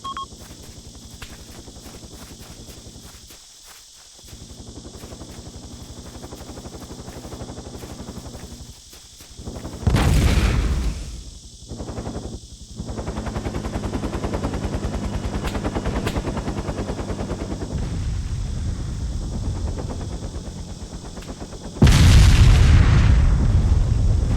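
Gunfire and explosions erupt around a base during combat in ARMA: Armed Assault, with steady rattling shots under a droning background and loud booming blasts hitting near the start and the end.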